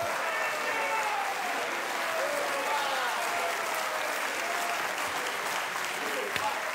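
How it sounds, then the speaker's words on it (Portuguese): A studio audience at a 2010 Brazilian presidential debate on TV Globo gives the four candidates loud, sustained applause, a thick, even wall of clapping with faint voices blended underneath. "eu peço uma salva de palmas aos 4 candidatos"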